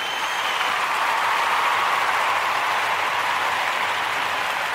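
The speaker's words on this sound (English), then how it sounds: "We want to give the Ujamaa babies a round of applause." Steady, dense applause from an audience at a Kwanzaa gathering honoring Ujamaa, a continuous wash of clapping that holds at an even level throughout without a break.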